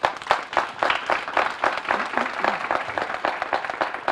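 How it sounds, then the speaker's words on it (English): Small audience at a press announcement clapping for a row of board members, individual hand claps audible in an uneven, moderately close patter that trails off. "Let's give them a round of applause."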